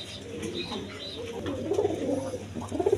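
High-flying Giribaz pigeons coo in a soft, continuous murmur, with low rolling calls swelling toward the end over a steady background hum.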